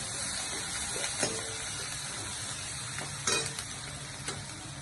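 Finely chopped onion sautéing over a low flame, a steady soft sizzle and hiss with occasional light stirring scrapes, close and even, no voices.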